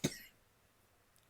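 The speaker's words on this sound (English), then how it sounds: "Ooh, I had a cough." A single short, sharp cough up close, followed by near silence.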